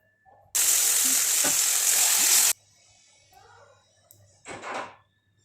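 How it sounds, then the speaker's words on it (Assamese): A loud burst of meat with turmeric and salt sizzling in a pan for about two seconds, followed by quieter clatter and a brief second sizzle near the end. "এতিয়া এইখিনি অকণমান মই ভাজি লৈছোঁ"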